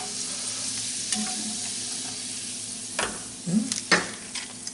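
An ingredient is tossed into a hot pan for a soup, giving a brief steady sizzle with stirring scrapes and a few sharper spatters near the end, close and fairly quiet.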